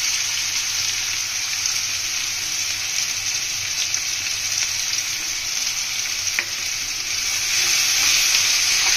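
Sliced onions frying in oil for beresta, a loud, steady, close sizzle with a few faint stirring clinks on top.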